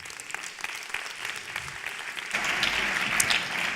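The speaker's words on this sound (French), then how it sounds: "Merci beaucoup de les applaudir." Conference audience applauding speakers, a steady patter of many hands that swells louder partway through and continues to the end.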